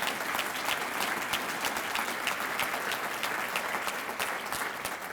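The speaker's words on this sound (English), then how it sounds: "Give him a big round of applause" Scholarship fundraiser audience gives a sustained round of applause, steady and fairly dense clapping heard from a distance without talk.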